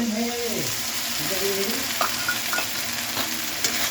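Spices and tomato fry in a pan, with a soft continuous sizzle under scraping stirs of a utensil. A few brief clinks break through near the end.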